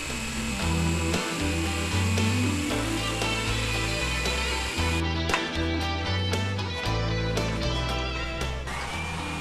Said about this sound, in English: Set the blade of the saber saw into the starter hole and follow the cutout line.